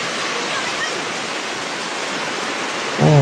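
Heavy typhoon rainwater rushes through a flooded area, a loud, steady broadband roar like a torrent, continuous and close, with a brief louder burst at the very end.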